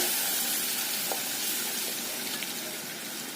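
Mango pieces for mango shira roast in ghee, giving an even, loud, hissing sizzle that holds steady throughout with faint spoon taps and no voices.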